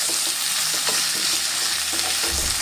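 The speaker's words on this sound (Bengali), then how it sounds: "এইভাবে তেলে নেড়ে চেড়ে করতে থাকলে তেলে কিন্তু কচুটাও ভাজা ভাজা হয়ে আসবে" Taro pieces frying in hot oil with tomato and spices, a loud continuous sizzle with repeated scraping strokes of a spoon stirring the pan, close up and without talking.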